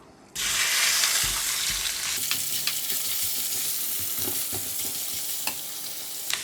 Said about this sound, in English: I'm going to switch on the heat again and put in the minced pork.